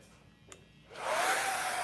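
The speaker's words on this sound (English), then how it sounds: "coming soon, Mirhan Edge of Style blow dryer" A prototype blow dryer switches on after a faint click and settles into a steady, close, airy whoosh at medium heat and medium speed.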